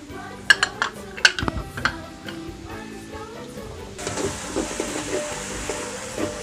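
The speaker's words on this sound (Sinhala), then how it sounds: "දැන් මේක චූටා කළා සුවඳ ගන්නකම් බැද ගන්න ඕනේ විනාඩියක් වගේ" Spices frying in a pan for chicken kottu in a village kitchen, starting with several sharp metal clinks of a utensil against the pan, then a steady close sizzle filling the rest.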